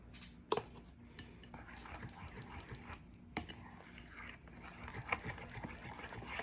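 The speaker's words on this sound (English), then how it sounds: "And just give it a good whisk or stir." A whisk stirring melted butter into yum yum sauce in a bowl, with light scattered clinks and taps against the bowl and a few sharper metallic knocks over a quiet background.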